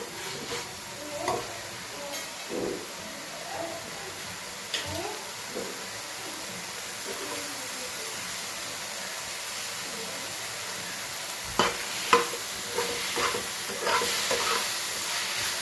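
Corn kernels stirred in a frying pan while making kulhad pizza filling, with steady sizzling and repeated scraping strokes of a spoon, closer and louder clatters near the end.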